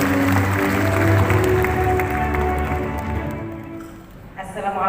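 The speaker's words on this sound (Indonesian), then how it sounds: "Bapak Ibu boleh beri tepuk tangan sekali lagi yang meriah kepada dua guru besar kita." Hall audience applauding two new professors at a UIN Syarif Hidayatullah Jakarta inauguration ceremony, clapping heard under a sustained droning tone and hum that gradually thin out, with a voice starting at the end.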